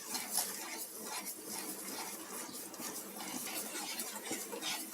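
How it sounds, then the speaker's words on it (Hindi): Semolina stirred steadily in a pan for suji halwa, a spoon scraping and clinking against the metal in a continuous close rustle with faint sizzling, no talk. "इसे आप धीरे धीरे मध्य आंच पर ही हिलाते रहें।"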